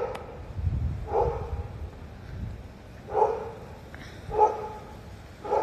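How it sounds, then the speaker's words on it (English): A big dog barks outdoors at dusk during a photoshoot, a few separate deep woofs spaced a second or so apart at moderate distance, with low rumbling background noise. "Sounds like a big dog."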